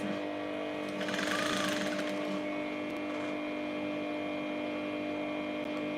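A sewing machine stitching fabric hums steadily and evenly at close range, its motor tone unbroken throughout, with no talking.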